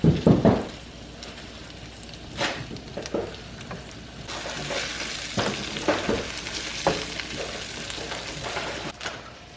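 Breakfast sausage seasoned with lots of paprika sizzles steadily in a pan, with occasional stirring and scraping knocks breaking through the close, even frying hiss.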